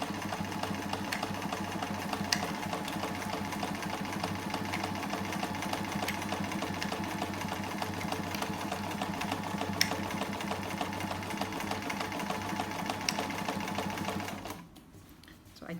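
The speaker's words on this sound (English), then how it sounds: "I am not sewing close enough to my stitches" A sewing machine runs steadily for about fourteen seconds while it stitches zigzags across two hems on a chair pouch, then stops. The hum is even and continuous, close to the listener, and ends in near quiet.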